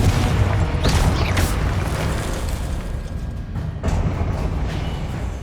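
Booming fire-spell explosions from the video game Hogwarts Legacy over dense, continuous combat noise, with broadband bursts near one second, one and a half seconds and four seconds.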